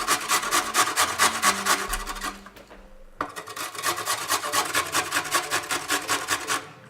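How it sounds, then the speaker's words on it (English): Peeled beetroot is rubbed down a metal box grater in quick, even rasping strokes, close and rhythmic, with a short pause partway before the scraping starts again. "You're gonna get yourself a box grater and"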